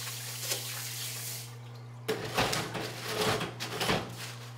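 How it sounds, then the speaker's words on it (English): Hands washed with soap under a running tap: a steady low hum at first, then water splashing and rubbing in bursts for the last couple of seconds, close and without talk. "The best way to prevent the virus from spreading is simply by washing your hands with soap"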